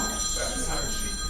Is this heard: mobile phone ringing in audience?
yes